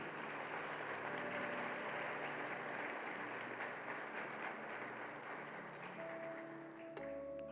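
A church congregation applauds during a sermon, a steady, fairly distant wash of clapping with a low hum beneath, holding evenly throughout.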